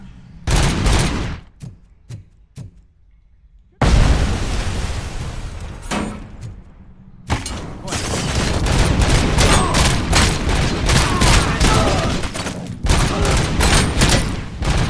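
Gunfire and explosions in the video game RoboCop: Rogue City: sharp single shots early on, then a heavy blast followed by sustained rapid-fire bursts and booms, loud and close, with brief pauses between volleys.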